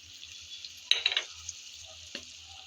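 Spices for a prawn pickle fry in a pan, a faint steady sizzle with a brief burst of stirring scrapes and one later clatter, quiet and without talk.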